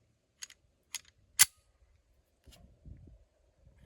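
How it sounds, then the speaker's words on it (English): A Springfield Hellcat pistol with a True Precision barrel being handled: three sharp metallic clicks as the magazine seats and the slide cycles, followed by softer handling clunks, close and isolated in a quiet room. "let's go ahead and let's throw a mag in and make sure it just functions"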